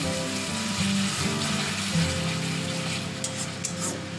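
Tomato paste sizzles in a pan while cooking prawns, a steady, close frying hiss with a soft spattering texture and a faint low hum beneath, no voices.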